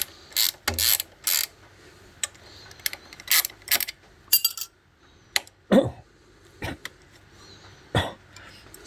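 A ratchet tightens the nut on the rear shock of a classic Honda CB125 or CB360 motorcycle under restoration, giving sharp clicking bursts at irregular intervals, close and loud, with faint grunting between strokes.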